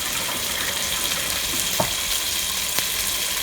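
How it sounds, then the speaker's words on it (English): Chicken fried rice sizzles steadily in a pan over high heat, a dense crackling hiss with a couple of soft clinks of a utensil. "As you can hear the sizzle, let it cook until chicken is completely done."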